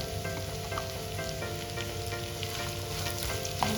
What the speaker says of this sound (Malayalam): അതിലേക്ക് ഒരു 2 പച്ചമുളക് അരിഞ്ഞതും കൂടെ ചേർത്ത് നന്നായിട്ടൊന്ന് വഴറ്റിയെടുക്കാം